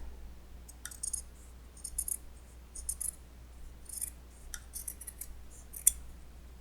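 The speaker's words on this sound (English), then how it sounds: "So we're going to just cut in here and cut." Scissors snipping fabric for sewn coasters, close and crisp, with short irregular clusters of cutting clicks spread across the span over a low steady hum, no talk.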